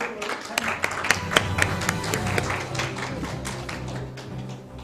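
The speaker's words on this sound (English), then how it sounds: "Please give him a big round of applause." Audience at a water sustainability awards ceremony applauding, a burst of scattered claps from a modest crowd in a hall, thinning out over a few seconds with faint voices underneath.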